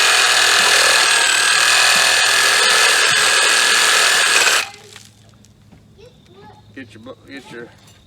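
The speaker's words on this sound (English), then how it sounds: "take your Sawzall, which I suggest you use" A Sawzall reciprocating saw cuts through a deer carcass during skinning and quartering, a loud, steady buzzing rasp that runs for several seconds and then stops abruptly, leaving quiet handling noises behind.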